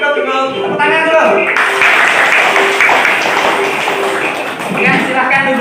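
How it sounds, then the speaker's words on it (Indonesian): Schoolchildren in a classroom clap together in a dense, loud burst that runs for several seconds, while an adult voice talks over the applause. "Tepuk tangan dulu."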